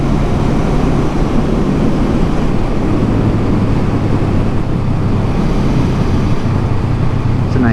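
Honda Rebel 500 motorcycle riding along a road, a steady loud engine drone mixed with heavy wind rush throughout, continuous with no breaks.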